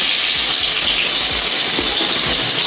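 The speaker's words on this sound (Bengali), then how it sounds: "এবার আমি পটলগুলো তেলে ভেজে নেবো" Pointed gourd pieces, rubbed with salt and turmeric, fry in hot oil in a kadai, giving a loud, steady, close sizzling hiss that fills the whole moment without speech.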